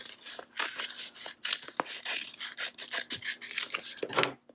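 A short run of uneven rasping strokes as cut vinyl is trimmed by hand for a monogrammed pumpkin. The strokes are close and quiet, with brief pauses between them.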